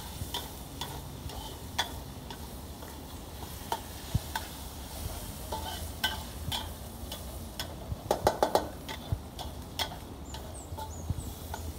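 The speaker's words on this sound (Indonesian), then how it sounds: "Kita bisa aduk dulu." Beef frying for Indonesian kwetiaw goreng, stirred in a pan: a steady close sizzle runs throughout, broken by repeated clicks and scrapes of the utensil against the pan, thickest near the middle of the clip.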